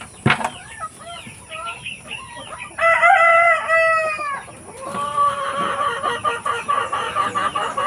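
Chickens cluck busily close by on a rural egg farm while a rooster crows loudly in the middle, with some wing flapping and chatter continuing afterward.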